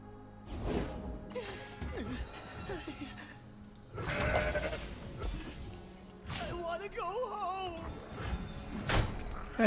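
A goat bleats in the Legends of Runeterra card game, a wavering cry rising and falling near the middle, among game effects like crashes and shattering thunks, with someone talking at times.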